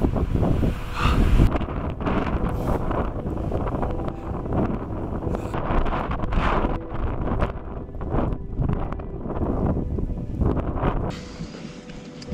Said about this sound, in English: So the weather now, it's pretty shit. Crazy now. Snowing and fucking wind.